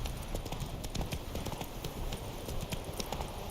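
Roach, Geralt's horse in The Witcher 3, gallops with fast, even clip-clop hoofbeats, steady and close throughout.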